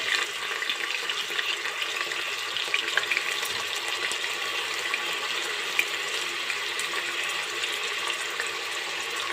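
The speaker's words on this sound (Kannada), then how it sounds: "ಈಗ ಸ್ವಲ್ಪ ಎಣ್ಣೆಲೆ ಫ್ರೈ ಮಾಡ್ತಾಯಿದ್ದೆ" Beans, carrots, peas and potatoes fry in oil in a pan, giving a continuous close crackling sizzle with small pops and the occasional stir throughout.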